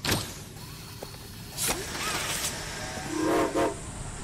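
A train moving in the horror video game Poppy Playtime, with a mechanical rumble and brief rising whistle-like tones and clatter bursts, moderately loud and without talk.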